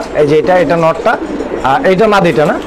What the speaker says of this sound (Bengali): মাশাআল্লাহ খুব সুন্দর ডাকটি ছিল কবুতরটা